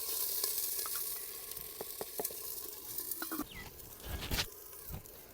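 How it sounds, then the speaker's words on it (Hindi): Ginger and garlic fry in a pot over a village mud-house fire, a steady sizzle running throughout, with occasional stirring clatter and scrapes and a few louder bursts near the end. "इसको ना भून लेते हैं"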